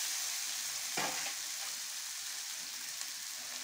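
Spice paste and fried potatoes sauté in a pan for a spicy fish curry, a steady moderate sizzle with one brief clatter of stirring near the start, no voices.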